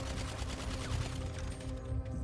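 Rapid suppressed gunfire in the video game GTA V during a Cayo Perico heist, a quick rhythmic rattle of muffled shots repeating steadily over low game ambience, moderately loud and without talk.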